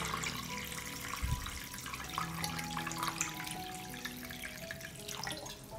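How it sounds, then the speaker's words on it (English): Lukewarm water is poured steadily into a pot holding glass jars, a continuous close splashing rush with no one talking. "I pour lukewarm water into the pot up to the height of the lid."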